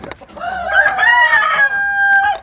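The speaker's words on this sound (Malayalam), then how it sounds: "ഇത് തലശ്ശേരി കോഴിയാണ്." A Thalassery chicken, a native Kerala breed, gives one loud, close crow lasting about two seconds, the drawn-out call holding steady and then breaking off, with no talking.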